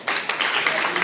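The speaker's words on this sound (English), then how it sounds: "let's give them a round of applause." Brief burst of audience clapping at a teacher training session, starting abruptly and continuing briskly for about a second, with a faint murmur under it.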